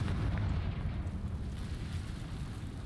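A Confringo fire spell explodes in Hogwarts Legacy, a heavy low rumbling blast that fades slowly over a few seconds, close and loud with no talk.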